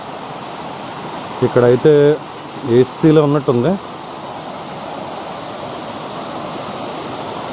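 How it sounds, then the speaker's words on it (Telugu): Water rushing over rocks at Dharamatam waterfall near Lambasingi, a steady broadband roar filling the whole clip, with a person talking briefly over it in the middle. "ఇక్కడ మళ్ళీ ఒక వాటర్ ఫాల్లో ఫామ్ అయ్యి మళ్ళీ రాళ్ళ మధ్యలో నుంచి ఇలా వస్తూనే ఉంటుంది"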